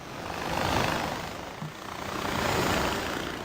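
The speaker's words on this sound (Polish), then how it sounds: "A czy to jest mini helikopter, nie?" A helicopter in the video game Far Cry 4 drones with a steady broadband rotor and engine roar, swelling and fading slightly as it flies, with no talk over it.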